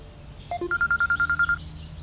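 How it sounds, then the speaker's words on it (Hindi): A phone rings with an incoming call: a couple of short electronic blips, then a steady run of about ten evenly spaced ringing pulses, fairly clear over a quiet room with no talking. "एक फ़ोन आ रहा है"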